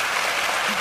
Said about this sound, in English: Cue the applause.